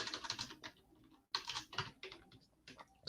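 Erlang code being typed on a computer keyboard, quick bursts of close key clicks with short pauses between words.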